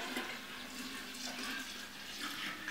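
Cooled tea being poured into a home kombucha brewing vessel, a steady continuous splashing, trickling stream of liquid heard close and fairly loud, with no talking.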